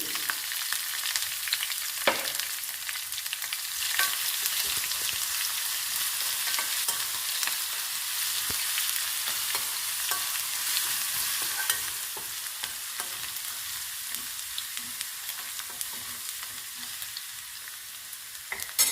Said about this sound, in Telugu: 4 వెల్లుల్లి రెబ్బలు దంచుకుని వేసుకోండి